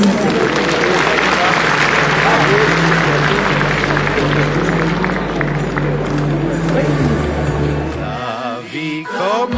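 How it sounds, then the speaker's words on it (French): Applause from an audience fills the hall for a 100-year-old man at a gathering, dense and steady clapping with crowd murmur and a low hum, thinning out and fading near the end. "Applaudissements s'il vous plaît."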